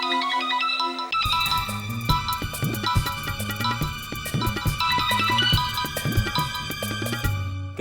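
Phone ringtone playing a bright, repeating electronic melody of plinking tones over a rhythmic beat, loud and continuous after a brief quieter tone at the start, with no voices.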